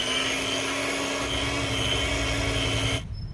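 A blender mixes milk bun dough with a loud, steady motor whir that holds constant for about three seconds and then switches off abruptly.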